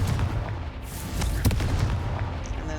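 Confringo, a fiery blast spell in Hogwarts Legacy, goes off as a dense, loud explosive rumble with sharp cracks through the middle, filling a short burst with no talking.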